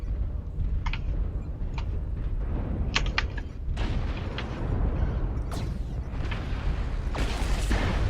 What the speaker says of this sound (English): Artillery strike. Mark 5 is hot.